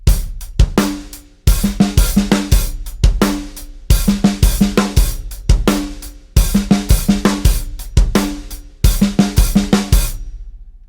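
A drum kit repeats the second bar of a groove four times, with kick, snare and steady hi-hat in a tight, punchy loop, loud and close with brief gaps between repeats.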